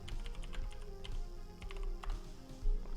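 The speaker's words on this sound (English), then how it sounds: "I'm getting sick and tired of typing this username and password in." Steady, close typing on a computer keyboard while entering a username and password, a run of quick, light key clicks with brief irregular pauses and a slightly heavier keystroke near the end, no talking.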